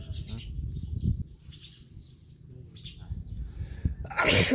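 A person sneezes once, loud and close, at the end of a stretch of quiet, low talking and background rustling.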